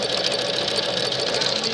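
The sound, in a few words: Japanese embroidery sewing machine stitching flowers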